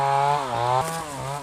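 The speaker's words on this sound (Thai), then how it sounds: "เสียงเครื่องตัดใหม่" A power cutting machine whines loudly nearby, its engine pitch rising and falling as it works, during mushroom gathering in a Thai forest.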